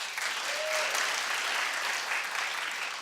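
An audience applauds at a music awards recap show, a sustained even wash of clapping that holds steady throughout, with one brief whoop near the start.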